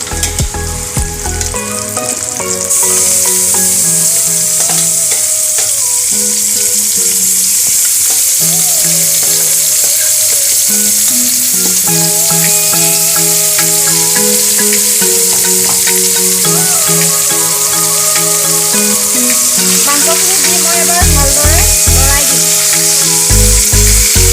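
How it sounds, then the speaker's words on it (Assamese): Duck meat sizzles with fried onions in a pan as it is stirred, a steady loud crackling hiss running throughout beneath background music. "মাংসখিনি এবাৰ ভালদৰে লৰাই দিছোঁ।"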